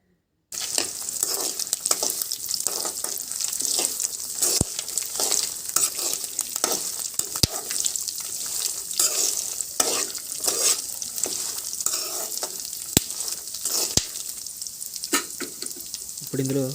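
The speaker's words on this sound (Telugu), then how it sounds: "తర్వాత ఇందులో కొన్ని పోపు గింజలు వేసుకొని కలుపుకోవాలి." Tempering seeds fry in hot oil in a pan with a dense, steady sizzle and crackle, punctuated by sharp clicks and scrapes of a spoon stirring them.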